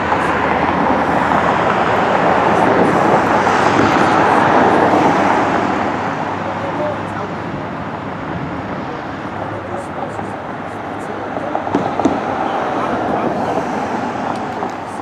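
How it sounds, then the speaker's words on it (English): Road traffic passing close by, a steady roar of car engines and tyres that swells and fades, loud throughout, with someone talking over it. "there's so much traffic behind me"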